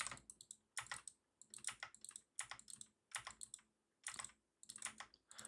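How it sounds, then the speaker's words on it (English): A computer keyboard clatters with quick bursts of key clicks separated by short pauses, close and crisp, with no voices. "apologies for the keyboard noises"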